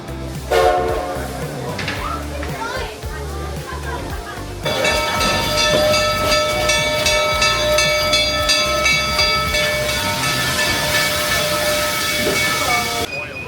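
A train passes nearby with sustained loud horn blasts, rumble and hiss of rolling cars, starting quieter with some talk before the horn and noise swell and hold steady to the end.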